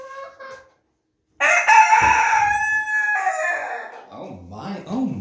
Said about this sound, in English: You gonna crow again?